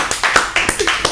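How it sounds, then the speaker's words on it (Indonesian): A few people clap hands in a podcast studio, roughly six loud, close claps in an uneven rhythm, with brief voices between them. "Mereka tepuk tangan dulu buat awal Adrian."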